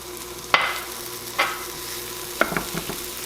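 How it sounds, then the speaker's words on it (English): Onions sizzle in melted butter in a pan, a steady crackling hiss near the mic, marked by a few sharp scrapes and clinks of a utensil stirring, with no voices. "So we melted some butter here. Now we're going to cook our onions."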